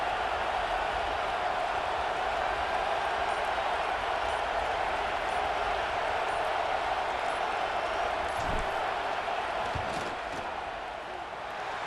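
In College Football 26, a stadium crowd keeps up a loud, steady roar during a field goal attempt, with a couple of dull thuds near the end as the noise eases slightly.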